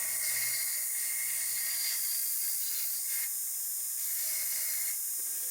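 A rotary tool with a fine bit grinds into a fire agate stone in a steady, high-pitched whine with hiss, continuous and close for the whole stretch.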